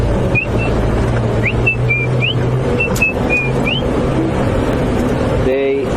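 A person whistles a series of short rising and falling notes, imitating a white-browed scrub robin's whistling call, over a steady low rumble of background noise.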